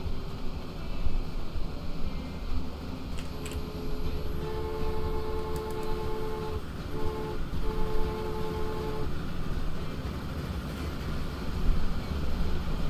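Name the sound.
train horn honking in the video game Transport Fever 2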